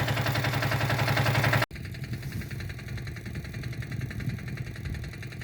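A car engine labours uphill on a country road to a village, a loud droning rumble that cuts out abruptly for an instant, then carries on as a lower, steady hum with a faint rhythmic pulse.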